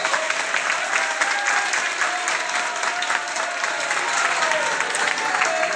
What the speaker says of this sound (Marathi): जोरदार टाळ्या वाजवून जाऊया